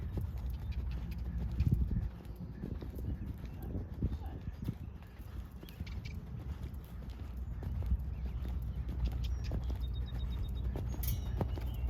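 Horse hooves clip-clop at a walk during an outdoor jumping and riding lesson, soft and steady beneath an instructor's spoken directions and low background rumble.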